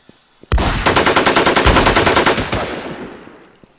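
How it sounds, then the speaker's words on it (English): Rapid automatic gunfire in the video game Infestation, a loud sustained burst of about twenty evenly spaced shots lasting two seconds, aimed at a zombie, followed by a brief tail. "That was me. I had to shoot the zombie."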